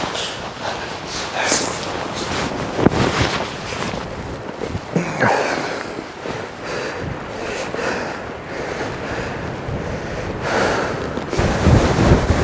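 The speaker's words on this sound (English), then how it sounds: "the winds are probably 30-mile-an-hour gusts right now" Strong gusty wind of about 30 mph roars across the microphone on a winter mountain hike at Sky Pond, in uneven bursts, with a steady low rumble and flaring gusts throughout.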